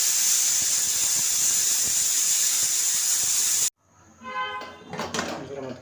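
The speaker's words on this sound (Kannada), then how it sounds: "ಕುಕ್ಕರ್ಗೆ ಹಾಕ್ಬಿಟ್ಟು ಒಂದು 3 ವಿಷಲ್ ಬರೋವರೆಗೂ ಬೇಯಿಸ್ಕೊಳ್ಳಿ." A pressure cooker with moringa dal inside lets out a loud, steady hissing whistle, which cuts off abruptly and gives way to quieter kitchen clatter.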